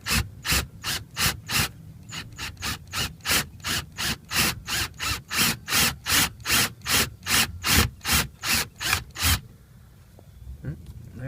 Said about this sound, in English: first thing we're going to need to do is drill out this rivet to expose the mounting point